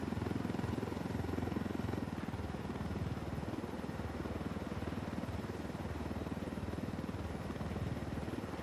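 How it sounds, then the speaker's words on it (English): A helicopter in a video game thrums steadily with a continuous rotor chop and engine drone, loud and unbroken throughout, no talking. "Oh, this is a very short helicopter flight."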